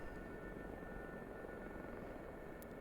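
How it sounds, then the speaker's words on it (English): An SA-342 Gazelle helicopter in a flight simulator drones steadily as it strains to hold a hover, a constant dense rotor and turbine roar with a faint high whine, close and unchanging throughout. "As you can see, now it's struggling to keep the helicopter in place."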